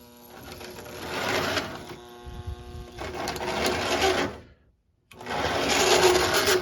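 A small electric motor in a Marx toy train, running dry despite fresh oil, whirs and rattles in bursts, stopping briefly before starting up again, with a dry, grinding mechanical buzz.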